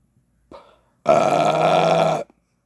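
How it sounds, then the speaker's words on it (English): A single loud, drawn-out burp from a man smoking a Diamond Crown No. 4 cigar, about a second long and close, preceded by a brief soft breath. "Gonna burp again."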